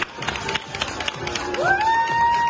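Audience applause and cheers fill a hall at a ballroom dance awards event, a steady wash of clapping with a whistle rising and holding near the end.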